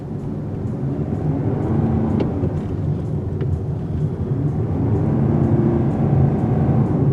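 Lexus UX 300h hybrid rolling along a dark back street at night, a steady low interior road and engine hum with tire rumble, constant and moderately loud with no voices.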